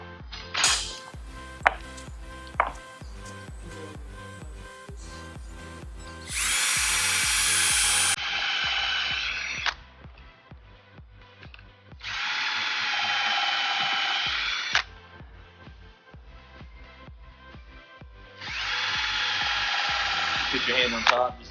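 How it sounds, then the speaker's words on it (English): A power drill whirs in three long bursts, pre-drilling plastic lumber for window shutters, amid mechanical clicks and ratcheting, with a person talking between the drilling. "We're going to pre-drill."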